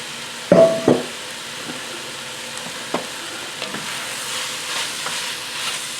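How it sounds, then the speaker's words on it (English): Meat, skin and onions dropping into a big pot for Brunswick stew, with two loud thumps and a brief clatter at the start, then a low steady sizzle and faint stirring scrapes. "We're going to take all the meat, the skin, and everything else and throw it in here with the onions."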